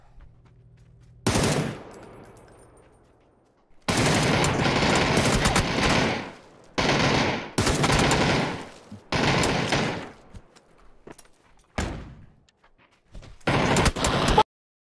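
Gunfire in PUBG during a battle royale fight: several loud, sustained automatic bursts in close succession with short gaps between them, ending with a final burst and a sudden cutoff.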